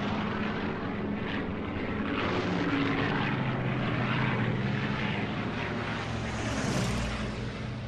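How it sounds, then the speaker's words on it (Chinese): Propeller warplanes in an aerial dogfight over Shangqiu, Henan, with dozens of Chinese and Japanese aircraft involved. Engines give a continuous, moderately faint droning roar that swells and fades slightly as the planes pass. "飞机翻滚追逐"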